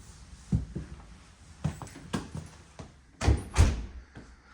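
A house side door leading out to the yard opens and shuts, giving a series of close wooden thuds and clunks spread over a few seconds, with the heaviest pair of knocks near the end.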